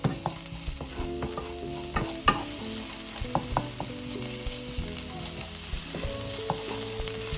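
Celery, onions, garlic and caraway seeds cook in a pan over low heat, with a spoon stirring and scraping in frequent close knocks over a continuous soft sizzle.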